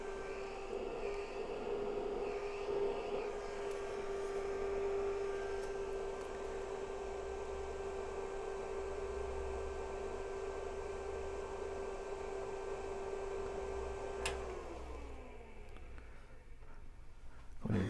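A rebuilt IBM PC 5150 computer powered on gives off a loud, steady fan whir with a constant electrical hum, running for about fourteen seconds before cutting off into near quiet.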